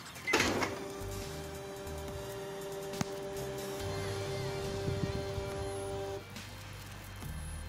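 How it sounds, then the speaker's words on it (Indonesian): A Casio SE-G1 cash register prints a monthly report: a steady mechanical whir with a faint tonal hum runs for about six seconds after a sharp start, then cuts off, leaving quiet room noise. "Printer akan mencetak laporan bulanan sementara"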